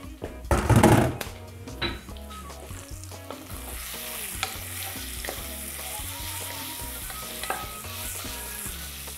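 Spices hit hot oil for a lamb meat sauce, a loud burst of sizzling at first that settles into a steady close frying crackle, with stirring and light pan knocks throughout.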